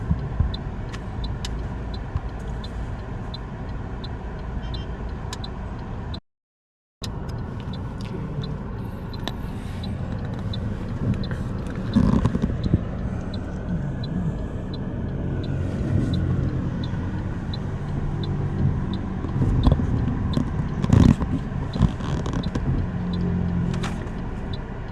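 A 2018 Toyota Corolla Altis automatic out on a test drive after a transmission manual-mode repair, a steady road rumble of engine and tyres running close and continuous, with one brief dropout early on and slight swells later.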